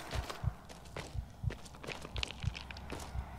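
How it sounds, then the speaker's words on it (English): Footsteps in the horror game Maid of Sker: about a dozen soft, evenly spaced thuds from someone walking at a steady pace, fairly close but quiet, with no talk over them. "Can he hear my footsteps?"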